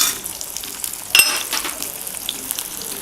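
Sliced onion frying in hot oil in a kadhai, a close, bright sizzle that swells sharply partway through as the onion hits the oil, then settles into a steady crackle.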